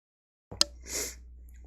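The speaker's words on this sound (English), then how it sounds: "I'm going to sneeze again." A single sudden human sneeze bursts out of near silence, close and loud, with a sharp intake and then a breathy explosive release that trails off.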